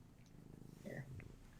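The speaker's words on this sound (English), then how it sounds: "She is a really loud purr." Low continuous purring from a female American Shorthair cat close by, with a voice talking briefly over the rumble partway through.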